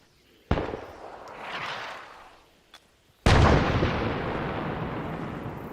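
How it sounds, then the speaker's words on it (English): Gunfire in Arma 3 on Altis, two sharp loud reports a few seconds apart, each followed by a long rumbling echo, with a faint distant pop between them and no talk. "What are they shooting at down there?"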